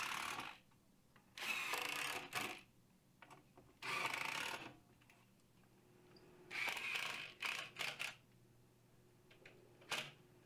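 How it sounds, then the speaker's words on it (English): A power drill drives screws into wooden side plates in several bursts of whirring, each lasting around a second, separated by quiet pauses, close and fairly loud with no talking. "Here I'm screwing in the side plates."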